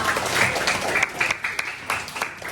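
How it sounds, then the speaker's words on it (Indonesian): A primary school class claps together in a classroom, a bright uneven patter with distinct individual claps standing out as it thins toward the end. "Tepuk tangan dong buat semua."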